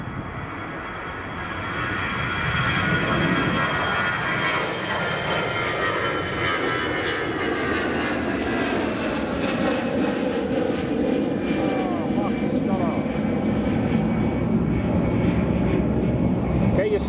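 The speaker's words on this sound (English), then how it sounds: "The Delta Airlines 767. There it is, yep, now pushing back." Delta Air Lines Boeing 767 pushing back at Edinburgh Airport, its engines a continuous loud rumble and whine that swells after a quieter opening and holds steady, with a voice talking over it.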